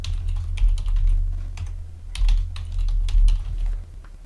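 Password typed on a computer keyboard, a quick run of close, crisp key clicks in uneven bursts over a low steady hum, with no talking.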